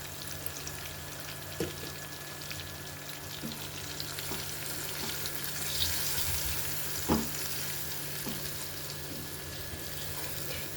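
Tomato masala with salt and turmeric fries in a pan, a soft, continuous sizzle with occasional stirring knocks and scrapes, heard close and fairly quiet.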